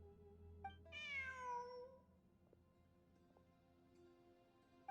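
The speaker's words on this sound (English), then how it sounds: "Look, a cat." A cat in the video game Genshin Impact gives one clear rising-then-falling meow, close and fairly soft, followed by quiet background with small clicks.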